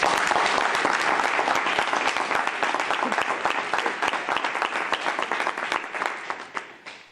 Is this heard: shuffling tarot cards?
no